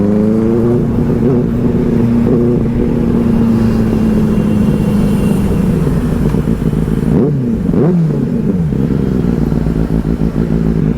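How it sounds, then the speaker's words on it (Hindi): A Benelli 600i superbike engine idles with a loud, deep exhaust rumble, then revs sharply a couple of times near the end, close up and with no talking. "काफ़ी लाउड आवाज़ है अपने बाइक की"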